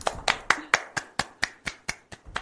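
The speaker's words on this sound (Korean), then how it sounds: "언제나 같이 박수로 시작을 합시다" A small group claps in unison to open a show, about eleven sharp, evenly spaced claps in a steady rhythm, close and clear with nothing else over them.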